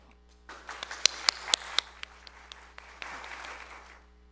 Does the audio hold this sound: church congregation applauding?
yes